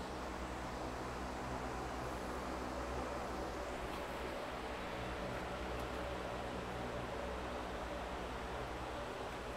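PC mining rig running after power-on, its fans spinning as a steady, broadband whooshing hiss with a low hum underneath, constant and unchanging throughout, with no voices.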